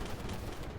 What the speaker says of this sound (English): I basically am trying to load up my system, firing my missiles